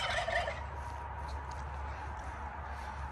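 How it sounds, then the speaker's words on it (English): Chickens are let out on a homestead farm. A brief burst of fowl calls comes at the start, followed by a low outdoor rumble. "And we let the chickens out."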